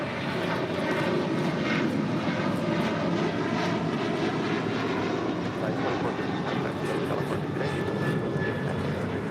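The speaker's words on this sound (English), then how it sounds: "2450 departing to Houston on a 737-900 ER" A United Boeing 737-900ER departs LAX, a broad, steady jet engine roar holding strong throughout with faint voices mixed beneath it.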